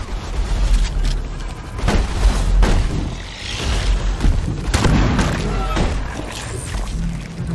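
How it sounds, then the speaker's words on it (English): A grenade goes off in the mining shooter Deep Rock Galactic, with heavy booming blasts and crashes among constant gunfire and combat noise, while a voice talks over the action. "Throw grenade!"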